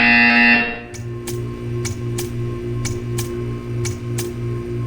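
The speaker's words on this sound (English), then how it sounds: "You will hear a buzzer." In a Portal 2 test chamber, a loud electronic buzzer sounds for about a second and then cuts off, leaving a low pulsing mechanical hum and a series of evenly spaced ticks.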